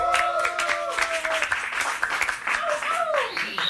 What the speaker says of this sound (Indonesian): Wih, tepuk tangan untuk Louis bro.